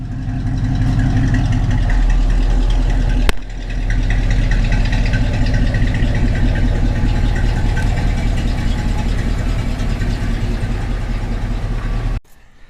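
A 1967 Mustang Shelby V8 idles loud and close with a deep, rumbling, uneven lope, holding steady as the car backs up, with a brief click partway through and an abrupt cut at the end.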